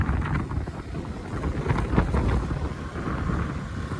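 Strong wind roars steadily across the microphone, a constant low rumble with gusty buffeting throughout and no voices.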